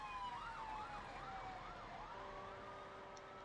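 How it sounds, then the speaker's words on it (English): Police car siren in the train simulator game Trainz Railroad Simulator 2022, a wailing tone rising and falling steadily over a constant low engine and rail rumble, no talking. "About to say, I heard your siren from way back there."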